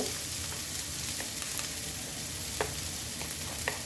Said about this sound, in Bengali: পেঁয়াজ আর আলু হালকা ভাজা হয়ে গেছে, এখন দিয়ে দিব